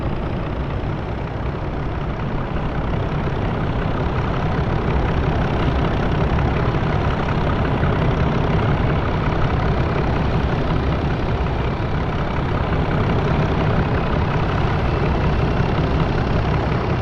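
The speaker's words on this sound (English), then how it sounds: "That's the only problem with the engines being so loud" Loud train engines in Train Simulator Classic give a constant, heavy, low droning rumble that runs unbroken for the whole stretch, with no voices.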